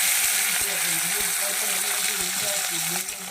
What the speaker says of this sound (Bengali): ব্যাস চিংড়ি মাছটা একটু ভালো করে ভেজে